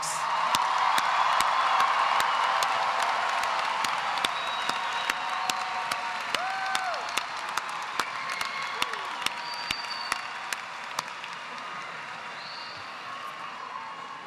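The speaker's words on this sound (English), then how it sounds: "How about another round of applause for the class of 2026?" Sustained applause from a large crowd at a high school graduation, steady and dense for the whole stretch, with scattered cheers and whoops rising above the clapping.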